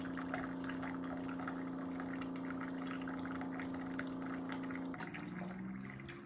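Keurig K-Elite single-serve coffee maker dispensing water into an 8-ounce cup, a steady pump hum under continuous splashing and pouring liquid, close and fairly quiet, tapering near the end.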